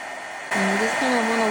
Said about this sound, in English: make sure you turn your gun on, let it warm up, and then start melting the powder